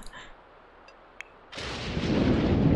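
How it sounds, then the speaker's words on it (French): A low, rumbling roll of thunder from The Sims 4 game rises suddenly after a near-quiet moment and swells, broad and booming, with no talking over it. "C'est quoi ce bruit d'orage"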